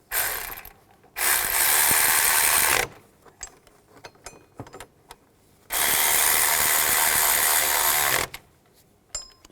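A ratchet tightening bolts on a 2002-2009 Chevrolet Trailblazer engine during a variable valve timing solenoid replacement, two loud sustained bursts of rapid clicking close by, separated by quieter metallic taps and handling noises.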